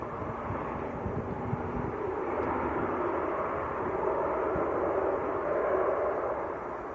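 An Airbus A321neo airliner on short final into Manchester Airport after a flight from Istanbul, a steady broad distant roar with low rumble holding evenly throughout.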